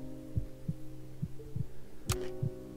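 Steady heartbeat thumps from a horror video game, a regular low throb repeating about every third of a second over a constant droning hum, with one brief bright noise burst partway through.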